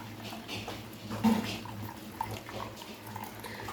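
Warm water is poured into semolina while making palm-fruit fritters, a short close splashing pour with a slightly louder gush partway through.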